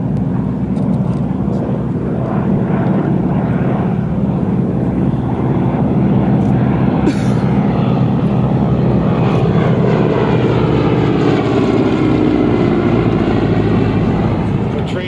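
A North American AT-6 propeller aircraft flies past at an air show with a loud continuous engine roar, its pitch shifting as it goes by, under an announcer's voice.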